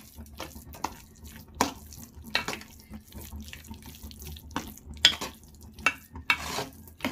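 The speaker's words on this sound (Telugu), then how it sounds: "నెయ్యి వేసుకొని అంతా ఇలా" Pumpkin halwa being stirred with ghee in a pan, giving a series of irregular soft scraping and wet mixing strokes, close by and fairly quiet, with no voices.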